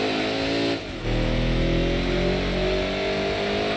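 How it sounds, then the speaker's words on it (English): Griffith sports car engine in Gran Turismo 2 revving loud and steady, a brief dip near the one-second mark, then a sustained high-rev drone with layered harmonics throughout. "can I be the first to say I like how the Griffith sounds?"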